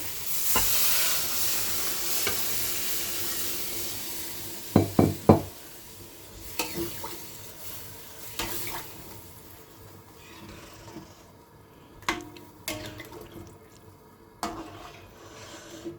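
Hot water poured into a pan of spiced potatoes frying for Bengali fish curry, a loud hissing sizzle bursting up then settling into bubbling, with sharp clinks of a spoon against the pan along the way.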